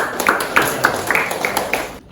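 Children in a classroom clap in unison, about six sharp, evenly spaced claps in a quick steady rhythm before it stops.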